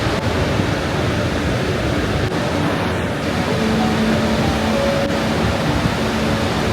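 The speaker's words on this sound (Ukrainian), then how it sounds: "Водоспад Савіца це один із найвідоміших і найкрасивіших водоспадів у Словенії." Savica waterfall in Slovenia's Triglav National Park, about 78 metres high, roars as a steady, dense wash of falling water. It is loud and unbroken throughout, with no speech.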